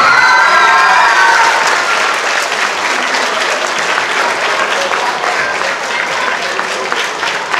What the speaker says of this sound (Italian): Oh, un applauso alla dottoressa Fiorella Careri.